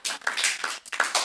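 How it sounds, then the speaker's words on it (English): Audience applause at a board of education meeting, a burst of many hands clapping at close range, dense and steady with small swells, heard alone without talk. "you can clap."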